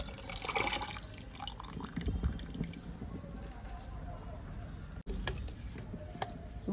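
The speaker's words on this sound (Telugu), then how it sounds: "ఇప్పుడు ఈ మిగిలిన వాటర్ను కూడా వేసుకుందాం." Leftover water is poured into a pot of soft mashed lentils for green chilli dal, giving a steady close splashing trickle with faint drips throughout.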